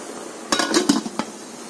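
A lid goes onto a steamer pot holding mango pieces, giving a short cluster of metallic clanks and clinks, three or four close knocks within about a second, near and moderately loud.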